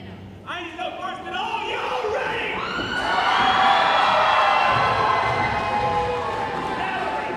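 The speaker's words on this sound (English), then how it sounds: "The hometown crowd fired up and ready to go for No Shame Jimmy Shane" A hometown crowd cheers and whoops for its local competitor, the shouting swelling louder after a few seconds into a full, sustained roar, with voices calling out over it.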